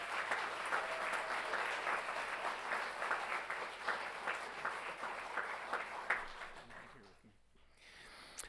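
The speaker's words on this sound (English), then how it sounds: "Please hold your applause until Mrs. Mann is finished." Audience applause fills a school governing board meeting, a steady dense clapping from a seated crowd that carries on for about seven seconds before fading and briefly picking up again.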